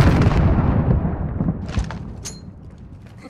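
A stun grenade detonates in a tactical shooter game with a loud, sharp burst at the very start, followed by a decaying rumble and a few faint crackles and high ringing tones as it fades.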